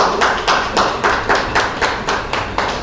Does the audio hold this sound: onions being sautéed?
no